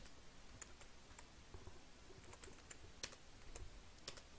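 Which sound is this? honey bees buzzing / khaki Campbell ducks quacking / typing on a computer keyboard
typing on a computer keyboard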